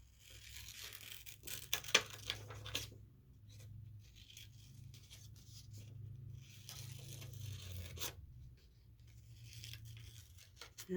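Scissors cutting half-circle ears from paper for a groundhog craft, with soft snips and crinkling paper rustles clustered early and again near the end, close and fairly quiet against a low background hum.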